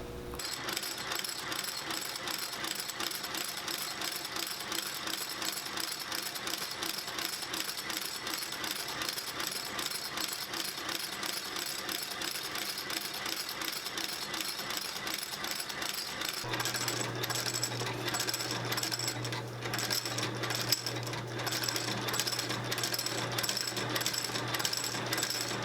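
Shoe-repair stitching machine sewing a new sole with a midsole onto a shoe, a fast steady mechanical chatter that runs nonstop, close and fairly loud, shifting to a deeper hum partway through.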